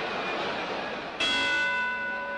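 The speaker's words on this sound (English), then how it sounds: "And there's the bell to end a sensational first round." A boxing ring bell clangs at about 1.2 seconds to end the first round of the 1961 Patterson vs Johansson heavyweight fight, a bright sustained ring over steady crowd roar.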